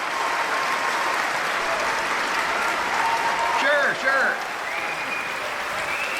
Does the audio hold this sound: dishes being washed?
no